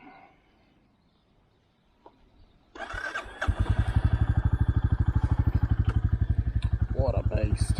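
A Royal Enfield Classic 350 motorcycle is started, with the starter catching after a quiet pause near three seconds, and then settles into a loud, steady, thumping single-cylinder idle close by.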